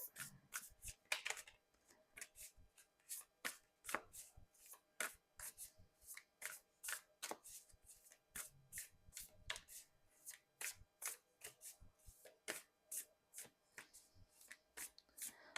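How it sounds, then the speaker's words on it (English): Tarot cards are shuffled close up in a steady rhythm of crisp riffling bursts, one after another, with no talking. "The cards have definitely been shuffling today."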